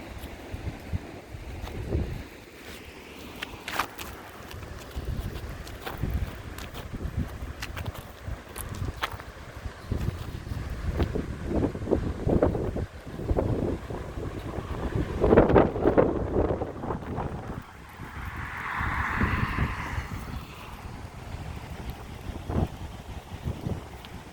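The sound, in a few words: strong wind blowing into the microphone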